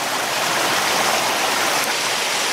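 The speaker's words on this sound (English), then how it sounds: "Standing in the creek." Creek water flows steadily, a loud, close, continuous rushing wash with no breaks, heard alone with no speech.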